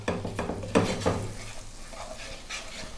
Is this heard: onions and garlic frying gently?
yes